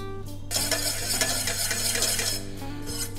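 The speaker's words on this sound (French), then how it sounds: "Mélanger un petit coup" A vinaigrette of wine vinegar, walnut oil and sunflower oil is stirred in a bowl, giving a quick burst of clinking, swishing strokes over a steady background hum.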